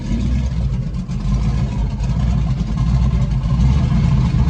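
A rat rod's engine idles with a lumpy cam, a loud, close, steady low rumble with an uneven loping pulse and no talking over it.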